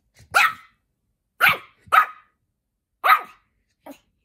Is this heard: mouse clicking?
no